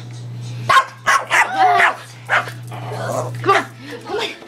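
A tiny dog gives several short, high yips and barks close by, spread through the clip, while people talk around it and a steady low electrical hum runs underneath.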